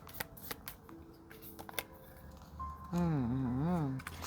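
Tarot cards shuffled by hand, with soft papery riffles and flicks at an uneven rhythm up close and fairly quiet, followed by a louder wavering tone that takes over the last second or so.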